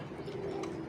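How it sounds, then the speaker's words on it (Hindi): Old Chini Salara pigeons give a brief, soft coo with a single sustained low tone, close by and faint, with no voices. "ये मियाँ साहब वाले पुराने चीने सलारे कबूतर हैं मेरे पास"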